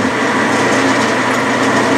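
Steady high-pitched whir of a Bridgeport mill center drilling soft lead, with a faint cutting rasp, continuous and close, without voices.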